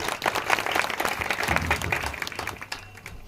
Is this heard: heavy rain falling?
no